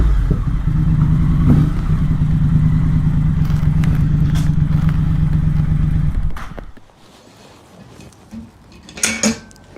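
Motorcycle engine idling close by with a steady low rumble for about six seconds before cutting off, leaving quiet surroundings and a few faint clinks and clatters near the end.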